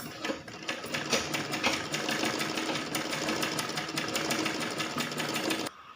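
A sewing machine runs fast and steadily, stitching the side seams of baby shorts with a rapid, even mechanical chatter that cuts off abruptly near the end.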